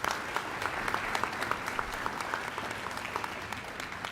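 An audience at a high school senior awards ceremony applauds steadily, a dense patter of many hands clapping at a constant level with no voices.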